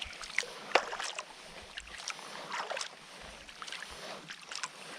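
A kayak glides across Waldo Lake in November under strokes of a Greenland paddle, soft rhythmic splashes and drips recurring every second or so over quiet open air.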